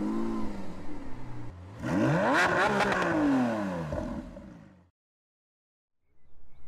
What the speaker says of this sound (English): And there it is, the 2020 BMW M760i xDrive.